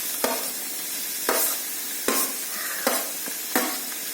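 Sliced onions for a chicken curry sizzle steadily in a hot pan, broken about every second by the sharp scrape of a spoon stirring them, close and clear with no talking.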